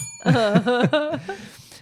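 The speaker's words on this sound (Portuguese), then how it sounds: "eu acho que eu vou usar o sininho agora, antes de acontecer a palavra, olha." A short little bell sound effect rings out as a quick run of four bright chimes that fade within about a second, with no talking over it.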